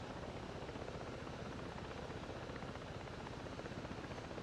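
A helicopter in the Ghost Recon Breakpoint video game flies steadily, its rotor producing a continuous, even beating drone that stays constant and fairly quiet, with no voices over it.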